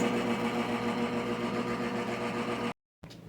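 An electric mixer whirs steadily at medium speed through fudge cake batter, a constant motor hum and rattle heard close up before cutting off abruptly, then restarting briefly.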